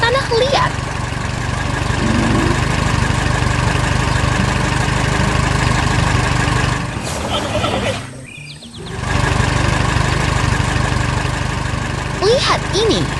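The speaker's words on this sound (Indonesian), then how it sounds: "traktor merah mengangkut kura-kura kecil, melintasi sawah dan ladang yang hidup dengan pohon-pohon rindang" A red tractor's engine runs with a steady, loud, low idling drone as it crosses fields, briefly dipping in level midway before returning to the same continuous hum.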